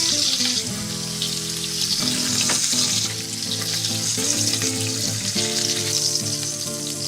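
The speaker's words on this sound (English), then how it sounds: "You see, just brown it a little bit on the side." Pork ribs sizzle steadily as they brown in a frying pan, a constant close crackle of hot fat with faint background tones running underneath.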